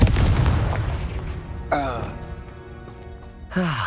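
A Confringo blasting spell explodes in Hogwarts Legacy, opening with a loud rumbling blast that slowly fades, followed by two sharp whooshing magical bursts.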